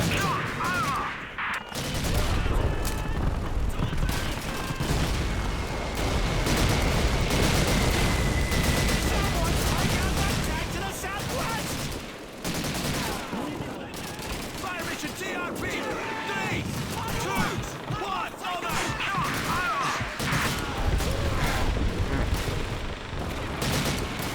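A Call of Duty 2 artillery barrage: dense rolling booms and crackling gunfire go on for about twenty seconds, loud and continuous, with brief lulls and in-game voices mixed in.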